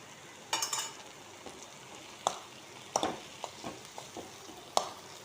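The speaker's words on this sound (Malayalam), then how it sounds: "എല്ലാം കൂടെ ഒന്ന് മിക്സ് ചെയ്ത് കൊടുക്കാം." A spoon stirs and mixes jackfruit thoran in a frying pan: scattered scraping strokes against the pan, several sharp clinks, and a light sizzle underneath, all fairly close.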